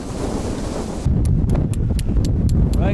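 Wind gusts across a winter campsite in the Glenshee snow, a loud rumbling buffet against the microphone that strengthens partway through, with rhythmic flapping ticks like tent fabric snapping.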